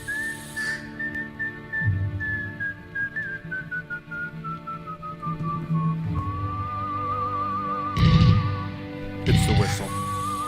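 A whistled melody from a song in Inglourious Basterds, a clear tune with long sliding notes, close and fairly loud, while a person talks in short bursts underneath.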